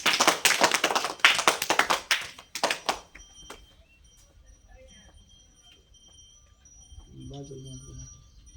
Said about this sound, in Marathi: टाळ्या जोरात त्याला